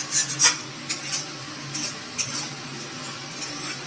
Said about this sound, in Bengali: আলুগুলোকে একটু নাড়াচাড়া করতে হবে